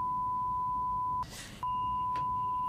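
A steady high censor beep runs through, cut off by a brief burst of noise, then resumes with a faint tone alongside.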